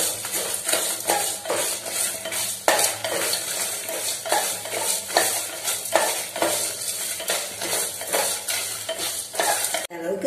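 Spices dry-roasting in a pan before grinding for a village-style kola urundai kuzhambu, with a rapid, rhythmic scraping and clinking of a ladle against the metal pan over a light sizzle, steady and close throughout.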